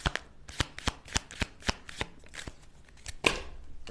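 Slightly wide tarot cards being shuffled by hand, a run of crisp, evenly spaced slaps and riffles close by, ending in a louder snap, with no talking.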